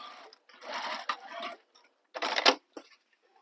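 A home sewing machine top stitches across a tote bag in short, quiet bursts separated by pauses, with light ticking from the needle mechanism and a sharp click near the end.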